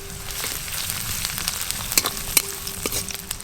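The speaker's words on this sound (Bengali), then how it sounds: "আদা রসুন আর পেঁয়াজ ভালো করে ভাজা ভাজা হয়ে গেছে" Chopped ginger, garlic and onion sizzle in hot oil in a pan, a steady close frying hiss broken by scraping stirs and small spatters.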